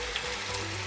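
Medium-size tomato, roughly chopped, goes into a pan of frying, still-undercooked potatoes, giving a steady close sizzle of hot oil that holds evenly throughout the moment.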